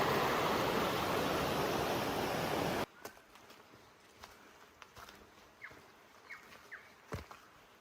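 Water rushes loudly and steadily at an unbridged river crossing in old New Zealand bush on the Pinnacles Round, North Island, then cuts off sharply to a quiet backdrop of soft footsteps and small chirps.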